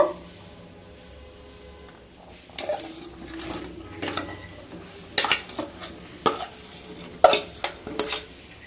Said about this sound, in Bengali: তেলটা ঠান্ডা হয়ে গেছে এবার আমগুলোকে দিয়ে দেব